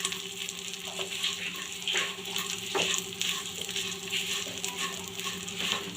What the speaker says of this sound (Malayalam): ഇനി നമുക്കിതിലേക്ക് ഒരു കപ്പ് അവിൽ ഇട്ട് കൊടുക്കാം. എന്നിട്ട് ഇതെല്ലാം കൂടി ഒന്ന് മിക്സ് ചെയ്ത് കൊടുക്കാം.